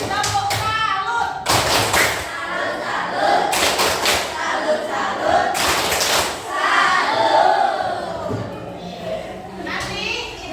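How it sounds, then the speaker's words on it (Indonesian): A classroom group performs the 'tepuk salut' clapping cheer, with sharp bursts of hand claps in a rhythmic pattern mixed with loud chanting children's voices, then fading into scattered claps and chatter. "Tepuk salut untuk kita semua."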